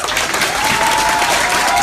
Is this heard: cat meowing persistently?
no